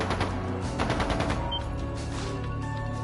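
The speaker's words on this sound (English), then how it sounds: "That didn't sound good. That sounded like gunfire." Rapid bursts of gunfire in the video game Trails of Cold Steel II crackle at a steady, fast rhythm, loud and close, with echoing tails and a faint electronic tone underneath.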